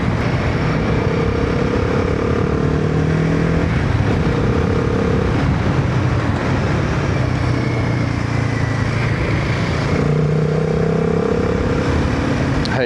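Royal Enfield Himalayan 450 motorcycle engine fitted with an upgraded air filter, a steady, loud, deep rumble with a few rising and falling rev tones riding over constant wind noise, no talking.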